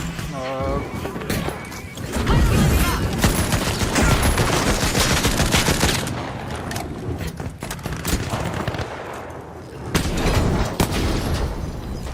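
A rocket fires and explodes in the shooter game The Finals, with dense rapid bursts of gunfire and booms that rise loud in the middle and again near the end while a player talks over them.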